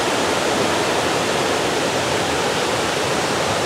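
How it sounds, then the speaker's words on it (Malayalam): A small forest waterfall pours nearby in a dense, steady rushing roar that stays loud and unbroken, with no voices over it. "ഇത് ചെറിയൊരു വെള്ളച്ചാട്ടമാണേ."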